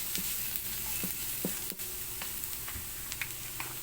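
Garlic sizzles steadily in a hot pan for a carbonara, with occasional clicks and scrapes from stirring over the continuous frying hiss.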